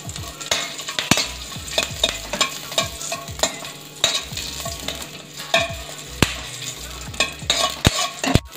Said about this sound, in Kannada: ಇದೇ ಬಾಣಲಿಗೆ ಎಣ್ಣೆ ಹಾಕ್ಕೊತಾ ಇದ್ದೀನಿ ಹಾಗೂ ಇದಕ್ಕೆ ಹಸಿಮೆಣಸು ಹಾಕ್ಕೊತೀನಿ